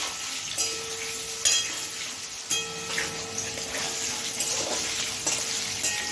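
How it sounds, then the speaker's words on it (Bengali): Paneer pieces frying in hot oil in a pan give off a steady, close bright sizzle, with a few soft clicks and stirring sounds on top. "এখন আমি এখানে পনিরগুলোকে ভেজে নেব গরম তেলে।"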